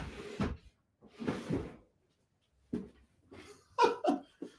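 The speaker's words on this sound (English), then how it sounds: "This is crazy that my cat opens my door." A cat opening a door: a sequence of wooden creaks and rattling knocks in separate bursts across several seconds, close by, ending in a busier clatter of the door moving.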